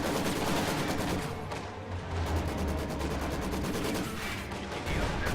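Dense gunfire in a Company of Heroes 2 battle: rapid machine-gun bursts and rifle shots crackle almost without pause, with low rumbling booms underneath.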